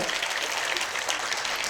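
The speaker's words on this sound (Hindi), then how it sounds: "ताली बजाओ।" An audience claps together in a brief burst of applause, a dense patter of many hands at moderate distance, fading slightly toward the end.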